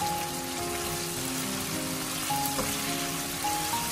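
Vegetables and rice stir-fried in a wok give off a steady, close sizzling hiss with faint scraping, continuous and fairly quiet with no voices.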